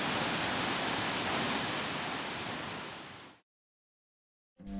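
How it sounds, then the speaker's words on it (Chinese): A small waterfall in Iceland, a steady broadband roar of falling water filling the first three seconds before cutting out to silence, then resuming briefly at the end. "坦白讲，呢个瀑布嘅规模的确比我哋之前睇过瀑布细"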